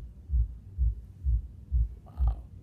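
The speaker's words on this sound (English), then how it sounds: "there's some serious bass happening next door" Heavy bass music from next door comes through the wall as a steady run of deep, muffled thumps, about two per second and fairly loud, with no voices.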